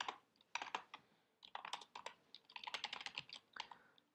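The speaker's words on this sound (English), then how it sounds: "I'm using new keyboard, so my typing speed is slow for this thing." Keys on a new computer keyboard clatter in uneven bursts of typing, close and clear, with short pauses between runs of keystrokes.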